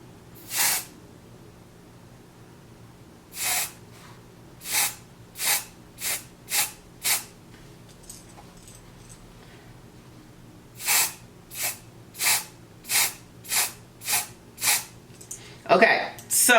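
Aerosol spray colour in medium brown is misted onto transparent wig lace in short, sharp hissing bursts, about six in a first group and seven more in a rapid second group, close to the microphone.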